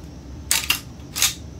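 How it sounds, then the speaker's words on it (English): The operating lever of the bolt on a Citadel KATAC-ATA12 shotgun is pulled back during reassembly, giving two close, sharp metallic clicks followed by a third slide-and-click, alone and clear. "slowly start pulling back on the operating lever of the bolt"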